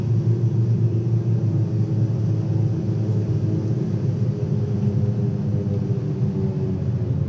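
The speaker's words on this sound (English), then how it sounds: "I roll the throttle back just a little more" The twin engines of a Beechcraft Baron G58 in Microsoft Flight Simulator 2020 drone on after being throttled back, a steady low rumble that holds constant throughout.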